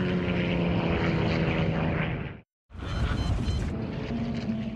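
A Beechcraft airplane diving, its propeller engine roaring loud and steady, cut by a brief moment of silence before the same heavy drone comes back.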